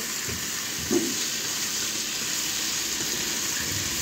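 Meat frying in a pan, giving a steady broad sizzle at a moderate level, with one brief soft knock near the start and no talk.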